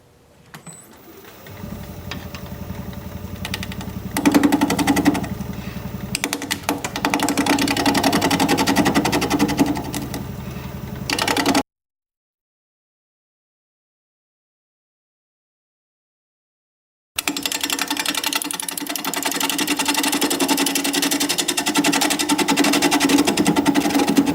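Wood lathe turning a bowl at 670 RPM, a steady mechanical whir and hum that starts, runs loud and continuous, cuts out briefly to silence, then resumes just as steadily.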